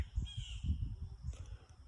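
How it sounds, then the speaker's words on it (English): Birds, apparently crows, call outdoors with harsh cawing over a steady low rumble of background noise, the calls moderately close and repeated across the short stretch with no talking. "Y'all just going to have to hear the birds."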